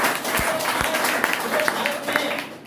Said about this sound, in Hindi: एक बार जोरदार ताली होना चाहिए हमारे